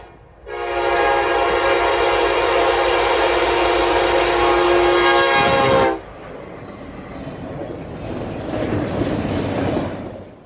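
A Norfolk Southern northbound auto rack freight train led by EMD SD70ACe locomotives blasts a loud sustained horn at close range, then the horn cuts off and the rolling rumble of the passing cars continues.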